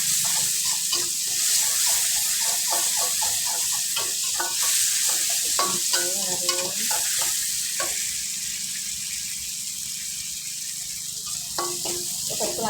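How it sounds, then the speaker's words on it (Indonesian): Tempeh frying in hot, bubbling oil in a home kitchen, a steady dense crackling sizzle with occasional stirring scrapes and clinks throughout, close and continuous with no talk. "Terus itu lagi goreng tempe mendidih."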